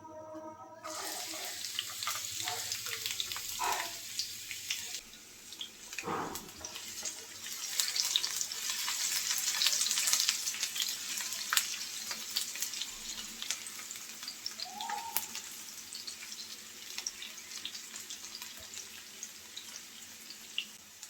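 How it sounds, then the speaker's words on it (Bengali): Chopped onion and garlic frying in oil in a pan, a faint steady sizzle running throughout with scattered crackles and occasional clatter, quiet and without talk. "তেল দিয়ে দেব পরিমাণ মতো করে পেঁয়াজ কুচি এবং রসুন কুচি"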